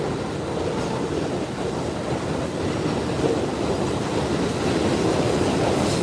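Loud, continuous rumble of trains passing close by in South Brooklyn, New York City, with rattling wheels and a steady roaring wash of noise.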